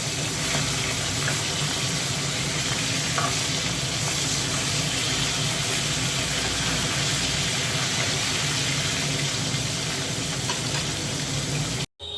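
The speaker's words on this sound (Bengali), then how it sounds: "এই যে মাছ ভাজাটা বসিয়ে দিয়েছি" Fish rubbed with salt and turmeric fries in a pan with a steady, loud, close sizzle and hiss that continues unbroken for the whole stretch, with no talking, before cutting off abruptly at the very end.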